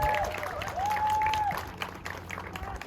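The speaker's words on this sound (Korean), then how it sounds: "우리 박수 한번 부탁드립니다." An audience at a Korean education superintendent candidate's campaign launch applauds a high school student's speech, a steady wash of crowd clapping with a faint tonal whine across the first half, fading slightly toward the end.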